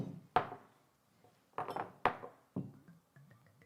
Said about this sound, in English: Little glug glug.